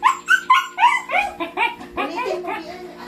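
A pet dog whimpers and yips to be petted, a close run of rapid, pitched, rhythmic cries over about three seconds, with no voice over it.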